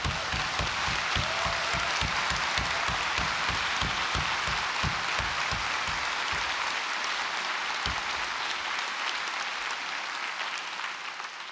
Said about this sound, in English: can you please give yourselves a massive, massive round of applause